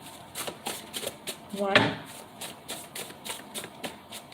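A deck of tarot cards is shuffled in a quick, rhythmic series of soft riffling bursts, close and fairly quiet, while a voice speaks briefly partway through.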